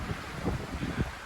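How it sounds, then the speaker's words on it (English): Gusty wind buffets the microphone on an unplowed, snow-covered mountain road, coming in low rumbling surges with two stronger pushes, steady and close with no talk. "the wind is low-key picking up"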